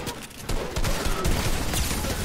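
Rapid P90 gunfire in the video game Fortnite crackles in dense, continuous bursts, loud and close, with no talking.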